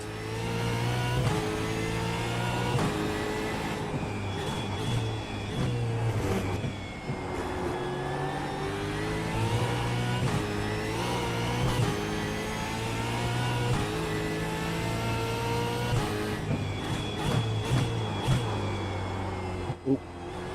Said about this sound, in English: you can slightly mitigate the wheel locking if you blip the throttle on downshift